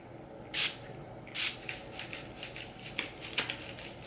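Farsali Rose Gold Skin Mist setting spray is spritzed in two distinct close hissing puffs, followed by quieter rustles and small handling sounds.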